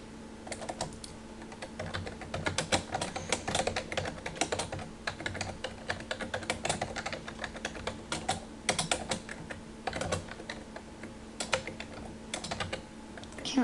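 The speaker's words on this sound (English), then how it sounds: "Can't type today." Rapid, continuous typing on a computer keyboard, with close, crisp keystrokes clattering in irregular bursts for the whole stretch and no one talking.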